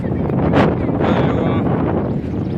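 Strong wind on a hilltop near the Malnath Mahadev temple buffets the microphone in loud, rough gusts, a continuous rushing roar with no clear voices.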